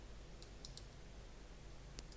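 Faint mouse clicks on a computer while copying and pasting text, a few soft scattered clicks over a low background hiss.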